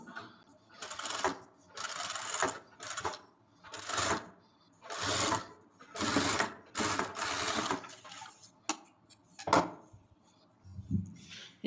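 A sewing machine stitches lace onto a curved fabric edge in a series of rapid mechanical runs of several seconds each, broken by short pauses, close and fairly quiet.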